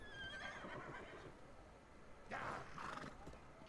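A horse in The Elder Scrolls Online whinnies and its hooves clip-clop over steady game ambience, with a louder burst of activity near the end.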